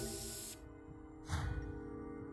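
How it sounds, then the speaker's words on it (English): A luminol canister sprays in Zero Time Dilemma, two short hissing bursts separated by a brief pause, close and fairly quiet over a faint background hum. "Now we're just spraying luminol on everything."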